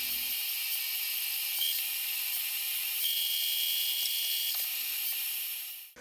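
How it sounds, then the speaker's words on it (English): A drill boring a hole for the lead screw in a metal part for a homemade lathe knurling tool, a steady high whir running for about six seconds with a faint rise in pitch midway before it spins down. "I'll now stand the part up and I'll drill a hole for the lead screw."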